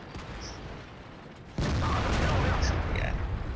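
Artillery and tank cannon fire in the World of Tanks video game, T34-3 tank: a quieter rumbling stretch, then a sudden loud blast-like onset that stays dense and roaring for the rest, with faint distant bangs mixed in.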